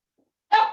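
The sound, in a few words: dog barking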